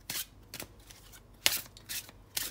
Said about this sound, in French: un petit tirage pour Mabou